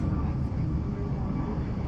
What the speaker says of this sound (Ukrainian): літак злетів